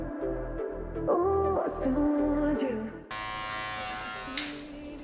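Cordless electric hair clipper cutting a taper haircut, a steady close buzz with pulsing motor hum that shifts in pitch as the blade meets hair.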